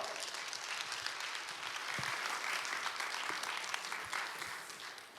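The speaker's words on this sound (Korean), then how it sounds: "보내주신 우리 목사님 하나님께 감사하다고 또 환영한다고 박수로 맞으시면 감사하겠습니다" A room full of people at a church prayer meeting claps steadily for several seconds welcoming a pastor, dense and even, fading slightly at the end.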